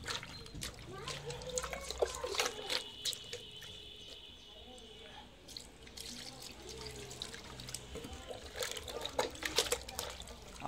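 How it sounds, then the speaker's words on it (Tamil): Water is poured into mutton pieces for a Seeraga samba rice biryani and stirred in, giving close, quiet sloshing and trickling with scattered clinks of a utensil against the pot. "நல்லா தண்ணி ஊற்றி நல்லா மிக்ஸ்"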